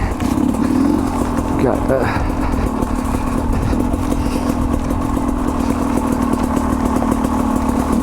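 A Sherco 250 SE two-stroke dirt bike engine running close and steady, a constant loud buzzing drone with a faint voice briefly over it.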